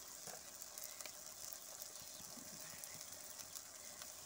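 Garlic and ginger fry in a pan for village-style masala aloo gobi, giving a steady, fairly quiet sizzle with light scraping clicks over about four seconds and no voices.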